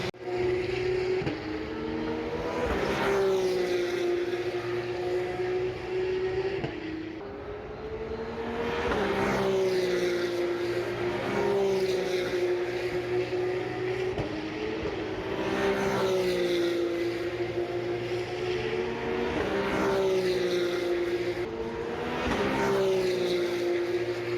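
Porsche Carrera Cup France race cars exit a chicane at Circuit Paul Ricard one after another, each loud engine howl rising and falling as it passes close by, in a regular series of about five passes.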